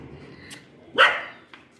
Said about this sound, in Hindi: यहाँ पे जो सारे बच्चे घूम रहे हैं, देखते ही भौंकने लगे।